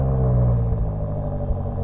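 A BMW M8 Competition engine runs with a deep, steady low rumble and slight mechanical clatter, close and fairly loud, with no talking.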